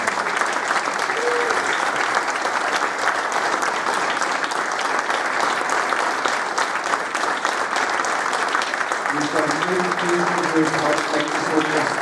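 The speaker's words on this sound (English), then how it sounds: "Please give them a round of applause" Sustained audience applause for prop and costume exhibitors at a fan convention, a broad crowd of hands clapping steadily for several seconds, with a voice starting to speak over it near the end.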